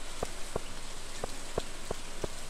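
Rain falling in the farming game Stardew Valley, a steady soft hiss with a few evenly spaced light droplet taps running through it, alone at a moderate level.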